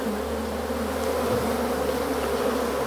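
Dense, steady buzzing of many honeybees from a hive being cut out of a kitchen cabinet, a close, continuous drone with no pauses and no talk.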